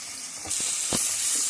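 Onions sizzling in a pan for vegetable pulao, a steady bright hiss of frying with a few louder crackles and spits, close and alone without talk.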